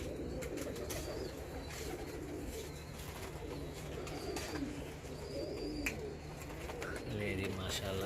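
Grey kamangar pigeons coo softly and repeatedly in hot Multan weather, their low throaty calls steady beneath a busy outdoor background with a voice talking.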